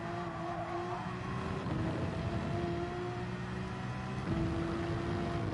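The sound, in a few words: Porsche race car engine in Gran Turismo 7 video game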